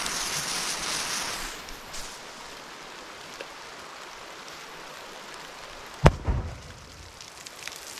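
A steady rush of water, then one sharp, loud bang from a firecracker exploding in water, followed by splashing and fizzing.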